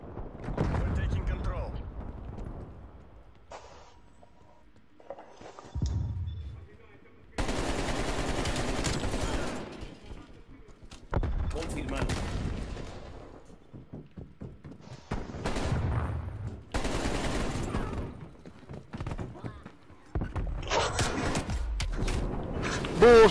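Gunfire in the video game Black Ops Cold War comes in repeated rapid automatic bursts and single shots with short gaps between them, mixed with voice chatter throughout.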